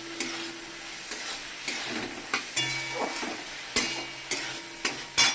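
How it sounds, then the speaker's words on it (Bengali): Okra sautés in a mustard and poppy seed masala with oil separating, giving a steady high sizzle punctuated by intermittent scraping and knocking strokes of a spatula against the pan. "এটা ভালো করে একটুখানি কষিয়ে নিয়েছি।"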